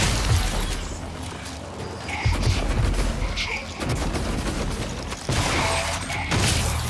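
Gunfire is aimed at a greater mimic in the game Prey, with bursts of loud close shots and sharp cracks in several clusters over a noisy, busy background.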